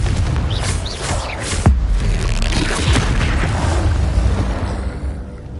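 A Confringo fire spell bursts in Hogwarts Legacy, a loud booming explosion with a sharp thump near the middle, surrounded by rumbling, crackling game effects that stay dense and loud throughout.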